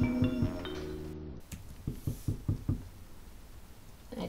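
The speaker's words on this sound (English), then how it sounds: "I don't like how the knocking sounds super clear in these headphones." Knocking on a door in the Roblox horror game Doors: a chime-like tone, then a run of about six sharp, fairly loud knocks spaced unevenly, with no voices.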